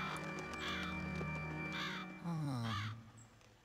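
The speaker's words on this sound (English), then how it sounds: "The crows have multiplied." Crows caw in the video game Luigi's Mansion: Dark Moon, several harsh, loud calls overlapping over a steady bed of game music and ambience.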